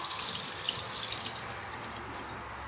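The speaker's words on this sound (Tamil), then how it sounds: "ஹேண்ட் நல்லா வாஷ் பண்ணு. Wash thoroughly. ரப் பண்ணி கழுவு கையை." Hands are rubbed and washed under a running tap, with a steady, close stream of water splashing continuously throughout and no talking.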